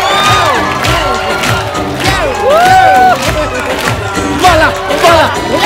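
Studio audience at a televised comedy show cheering and whooping for Akshay Kumar, a loud, lively crowd roar with rising shouts and voices layered throughout.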